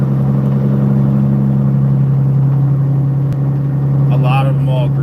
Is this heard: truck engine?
yes